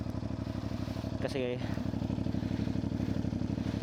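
A CFMOTO 450MT motorcycle engine runs with a fast, steady throbbing pulse close by, continuing evenly throughout while someone speaks briefly over it.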